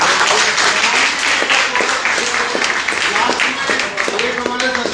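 Audience at a training session applauds steadily and loudly, a dense wash of clapping running the whole stretch with voices mixed in underneath.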